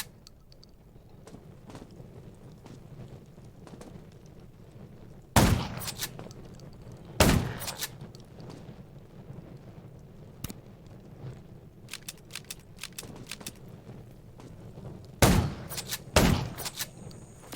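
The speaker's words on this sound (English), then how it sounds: "Gunshots will attract." Gunfire in the video game Garena Undawn: several sharp, loud bursts of shots spaced apart over a low ambient background, with faint clicks and small noises between them.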